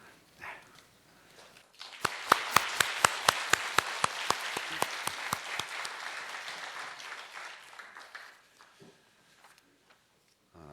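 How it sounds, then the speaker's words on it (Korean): A church congregation applauds to welcome returning missionaries, starting with a few sharp, evenly spaced claps that swell into a full round of clapping, which fades out after several seconds into a quiet room. "우리 박수로 환영하고 또 격려하겠습니다"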